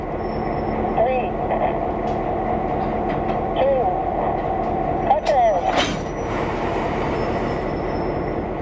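Locomotive coupling onto railcars during a cab ride at a railway museum: steady rumble of the engine with wheel squeals and a sharp clank near the end, voices talking over it.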